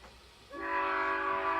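A loud train horn sounds as a train passes, the blast starting abruptly and holding steady as a sustained chord against rumbling rail noise.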